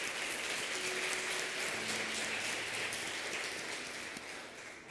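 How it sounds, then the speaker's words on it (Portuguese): Church congregation applauding, a dense, sustained wash of clapping from a crowd that tapers slightly toward the end, with a faint tonal hum beneath. "eu quero uma salva de palmas para o nosso Deus"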